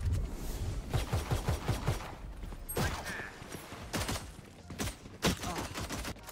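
Gunfire in the video game Valorant, including an Operator sniper rifle, comes as a quick burst of sharp shots followed by several spaced, punchy reports and some mechanical clicks, with no talk.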